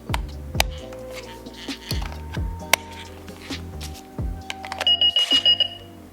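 A running novelty alarm clock rings with sharp electronic beeps while its motor whirs and clatters as it moves about, loud and close, ending in a quick run of pulsing tones.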